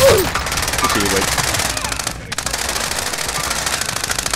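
Automatic machine gun fire in the game Warzone, loud continuous rapid bursts that break off briefly midway and resume, with a voice over the top.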